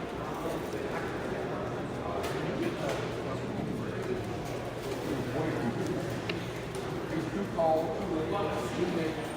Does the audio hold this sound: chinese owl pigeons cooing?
yes